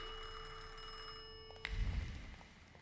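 A telephone rings in The Thaumaturge video game, a short bright ring fading out, followed by a low thump and rumble, with no talking.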